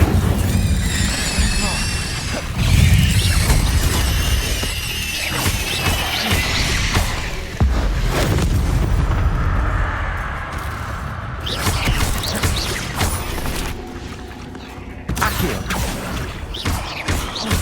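Incendio fire spell cast in the video game Hogwarts Legacy, loud whooshing bursts and crashing impacts mixed with other spell effects and game sounds, with someone speaking over them.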